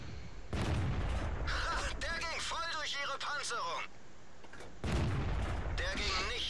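Tank cannon shots ring out in a World War II tank video game featuring a StuG III Ausf. G against a T-34, heard as sharp booming blasts amid battle noise, with someone talking over the action.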